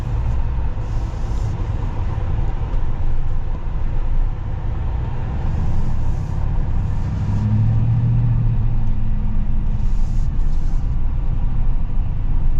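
A Chevy Silverado ZR2 pickup rolls over bumpy ground, heard from inside as a constant low road rumble with soft knocks and thumps from the uneven surface and a steady engine drone, no voices.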